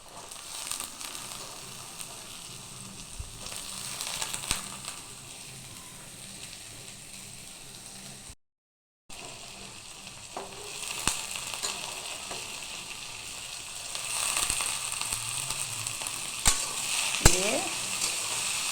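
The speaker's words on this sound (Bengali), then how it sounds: "এবার আমি কড়াইয়ের মধ্যে আলুগুলো দিয়ে দেব" Cut potatoes sizzling in oil in a wok, a steady frying hiss with occasional stirring clatter and scrapes, close and continuous with a brief gap.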